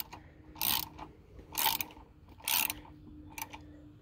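A bolt is tightened to draw the caster wheel yoke and its bottom bearing up on a John Deere Z355E zero-turn mower, making four close, distinct ratcheting clicks in bursts about a second apart against a quiet background.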